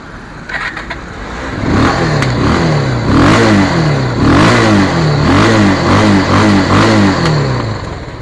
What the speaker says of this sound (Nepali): बाइकको आवाज सुन्नु भयो हैन त